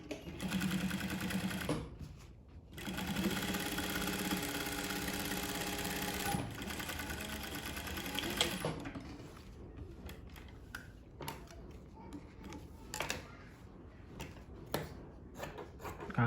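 A domestic sewing machine stitches a single welt pocket in bursts, a long steady run of needle clatter, a pause, then another sustained run before stopping, followed by scattered soft handling clicks and rustles.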